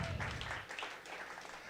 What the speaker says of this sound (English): Can we clap for them all again?